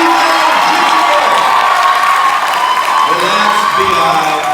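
A hall audience at an annual Alpha Beautillion gala claps and cheers loudly and continuously for a co-host, with whoops and shouts mixed in and voices running underneath.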